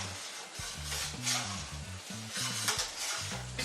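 Scrambled eggs being stirred in a pan on a stovetop, a utensil scraping and clattering in an irregular rhythm over a steady, close sizzle.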